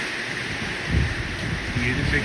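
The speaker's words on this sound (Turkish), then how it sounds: "Çok güzel yağmur yağıyor." Steady rain hisses over a broad wash of noise in a village with olive trees, with a few low thumps, and a voice murmurs faintly beneath it.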